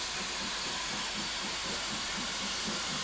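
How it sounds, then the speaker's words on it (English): GWR Manor-class steam locomotive Bradley Manor pulling out of Bristol Temple Meads, even rhythmic chuffs over a constant steam hiss, moderately distant. "This is Bradley Manor, leaving Temple Meads with steam to spare."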